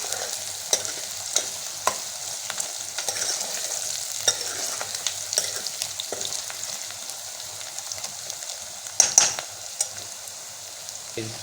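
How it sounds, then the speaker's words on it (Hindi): Onions frying in a pan, slowly browning for a sabz tori (ridge gourd) dish, sizzle steadily while a spoon stirs and scrapes at intervals, close and fairly quiet, with no talking. "हमारा ये प्याज ना हल्के हल्के ब्राउन होने शुरू हो गए हैं"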